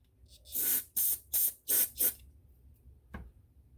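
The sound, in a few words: compressed air sprayed through Dellorto carburetor passage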